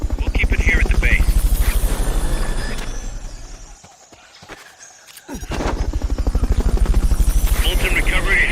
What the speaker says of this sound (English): Molten recovery helicopter is complete.